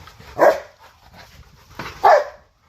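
A dog barks twice, loud and close, with a short gap between the two barks.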